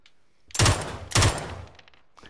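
Two loud, close gunshots in PUBG, roughly half a second apart, each with a sharp crack and a short decaying tail, followed by quieter faint sounds.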